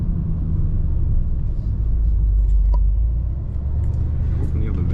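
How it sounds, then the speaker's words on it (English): A 2025 Aston Martin Vantage engine rumbles low and steady from inside the cabin while driving around Monaco, a continuous loud drone with no clear revving peaks. "we like the sound mostly of the car"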